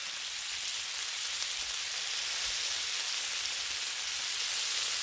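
Bacon sizzling on a Blackstone griddle, a steady dense hiss and crackle of frying fat, close and continuous without talk.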